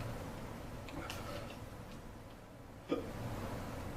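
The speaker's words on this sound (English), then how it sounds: "The hiccups." One sharp, sudden hiccup cuts through a quiet room, a single brief catch of breath standing alone with no other sound around it.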